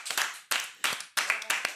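A few sharp hand claps ring out in a studio, five or six distinct bright strikes spaced about a third of a second apart, fairly close and moderately loud, more like a small group than a full crowd.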